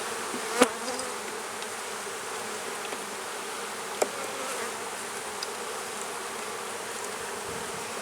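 Bees hum around an open hive during an inspection in a steady, continuous buzz, with a couple of brief sharp knocks along the way and no voices.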